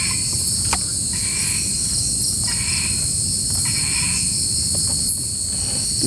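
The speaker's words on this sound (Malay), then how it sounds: "Tu bunyi cengkut." Crickets chirp in a dense, steady, high-pitched chorus beside a lake at night, a continuous insect drone with faint low rustling beneath and no voices.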